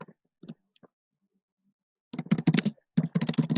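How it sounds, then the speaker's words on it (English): Someone typing on a computer keyboard up close, a few scattered keystrokes at first, then a short silence, then two quick dense bursts of clicking keys. "I guess Elena's typing one out."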